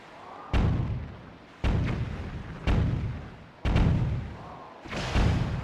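Cannons firing in a video game sea battle, five deep booming blasts about a second apart, each decaying into a rumbling tail, loud and close.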